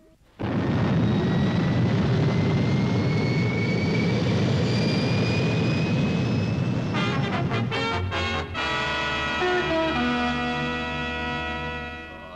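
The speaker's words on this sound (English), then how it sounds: "Firing main boosters." Spaceship main boosters firing as a TV sound effect, a loud sustained roaring rumble with a rising whine, shifting into a pulsing, throbbing drone that carries on steadily to the end.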